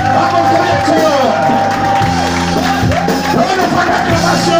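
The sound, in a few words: crowd cheering and acclaiming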